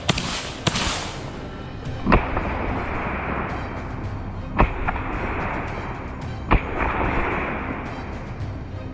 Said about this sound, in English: 2 quick shots rang out